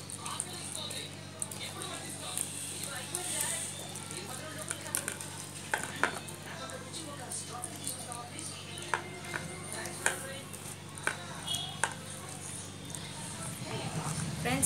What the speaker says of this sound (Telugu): కలపాలి ఫ్రెండ్స్, కొంచెం పలచగానే కలపాలి.